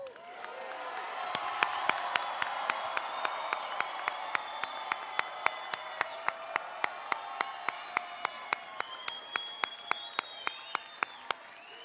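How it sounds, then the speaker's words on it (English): Graduates at a college of aeronautics and technology commencement applaud their supporters. Sustained crowd clapping fills a large space, with sharp regular claps close by and scattered faint cheers. "Graduates, I ask that you please turn and applaud all of those who have supported"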